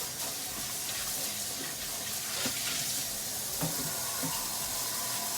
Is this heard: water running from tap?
yes